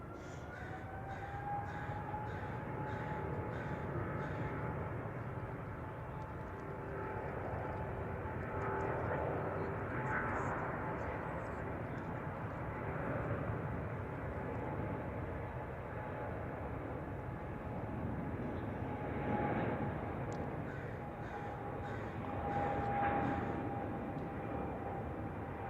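A fixed-wing airplane passing at San Francisco Airport, a long, moderate roar swelling and fading over about 25 seconds, with crows cawing intermittently nearby.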